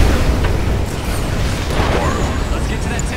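An ion cannon strike explodes in Command & Conquer: Kane's Wrath, a loud, broad roaring blast under dense battle noise, with a voice speaking over it.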